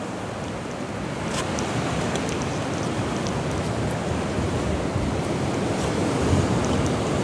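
Ocean surf roars in a steady, broad wash during a cyclone at a Karachi beach, with waves surging continuously and a slight swell near the end; no talking.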